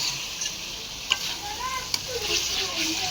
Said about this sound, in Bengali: দেখো পুরো মশলাটাকে মিক্স করে দেবো।